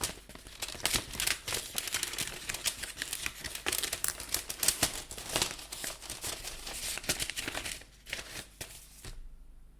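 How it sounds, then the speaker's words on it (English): A handwritten paper letter is unfolded with steady, close crinkling and rustling for several seconds, dense bursts of papery crackle that thin out and stop near the end. "as they unfolded the paper"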